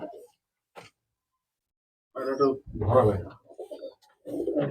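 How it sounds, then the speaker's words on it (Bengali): A Murshidabadi Giribaz pigeon, held in hand, coos briefly and softly near the start, then a person talks over it while further low cooing blends in. "এই একটা গ্রিবাজ পায়রা"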